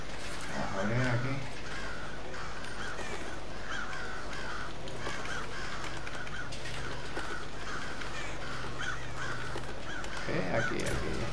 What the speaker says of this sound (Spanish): Se volvieron locos los pájaros de repente.